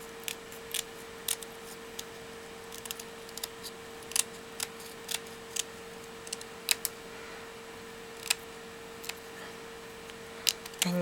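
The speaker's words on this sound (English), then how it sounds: "I'm just going to cut this out" Scissors cutting out a small paper vintage-style bookmark: crisp, close snips in an irregular rhythm over a faint steady hum, with no talking.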